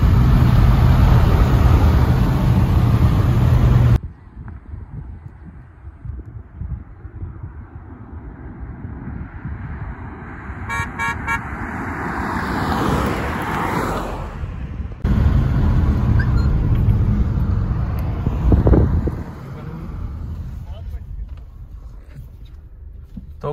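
A Kia Seltos diesel and a Kia Sonet turbo iMT drag race, with loud in-cabin engine roar and wind noise that cuts abruptly between segments, followed by rising revs and passing vehicle rumble.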